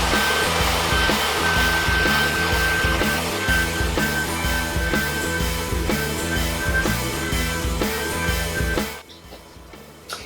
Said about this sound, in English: So I'm gonna hit it with a hairdryer.